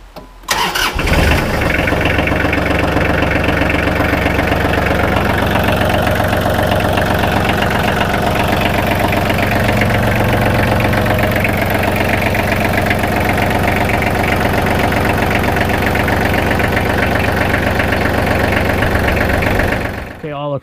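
A Kubota L3010 tractor's diesel engine cranks and catches, then settles into a loud, steady idle with a rough, knocking clatter that runs unbroken for about twenty seconds before cutting off.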